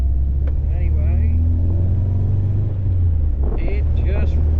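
An MGB fitted with an MX5 conversion engine pulls through its gears on a test drive, a loud steady engine rumble with a voice talking over it.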